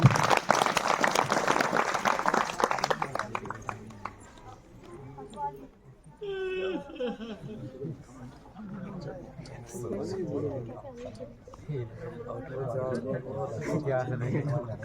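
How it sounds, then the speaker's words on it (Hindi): Applause rings out at a farewell ceremony during a badge presentation, loud at first and fading within a few seconds, followed by talking and general hall noise. "एक बार जोरदार तालियां"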